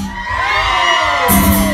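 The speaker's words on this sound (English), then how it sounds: "I want to hear all the ladies in the house. Give me your best blood curdling scream." Women in the audience at a live club concert in Leeds scream together. The shrill, sustained crowd screaming fills the whole moment loudly, and a sharp burst of higher-pitched noise rises near the end.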